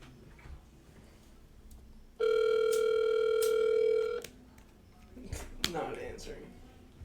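An unanswered outgoing phone call rings out: a steady two-tone ringback buzz, loud and close, runs for about two seconds before cutting off, with quieter background noise and a brief clatter afterward.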